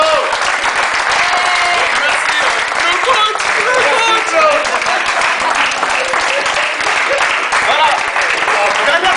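A roomful of people gives a long, loud round of applause to a departing coach at a seniors' evening party, dense steady clapping with scattered voices and cheers mixed in.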